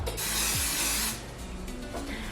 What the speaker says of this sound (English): you gotta spray them both with spray